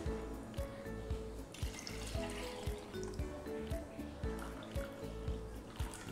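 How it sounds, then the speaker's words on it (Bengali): Milk being poured and stirred into a thick blended mango drink, heard as soft liquid splashing and repeated rhythmic clinks and stirring, fairly quiet throughout. "বাকি দুধটা আমি এর মধ্যে মিশিয়ে দেবো।"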